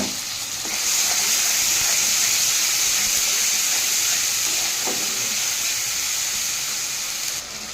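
Ginger, garlic and onion paste sizzles with softened tomatoes in hot oil, making a loud, steady frying hiss. Occasional spoon scrapes sound in the pan as the mixture is stirred.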